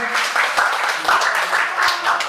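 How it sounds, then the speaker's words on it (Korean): Guests at a first birthday party clap together in a brisk, lively burst of applause from a roomful of people, continuous for a couple of seconds. "박수 한번 보내주세요."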